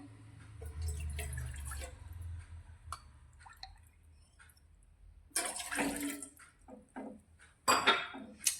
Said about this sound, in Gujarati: અત્યારે આપણે બે કપ પાણી અંદર એડ કરીશું